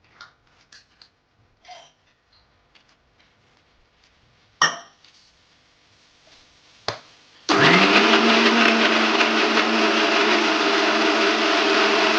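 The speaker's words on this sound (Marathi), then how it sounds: "तर आता ही कांदा, ही मसाला आहे ती बारीक करून घेते मी." An electric mixer grinder grinds onion masala for dal vada. A few clicks and clinks of setting up come first, then the motor starts with a loud, steady, close whir that fills the final third.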